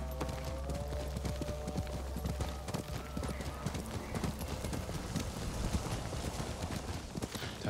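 Horse hooves clip-clopping in the video game Ghost of Tsushima, a steady run of hoofbeats over game ambience and music, with an occasional brief whinny.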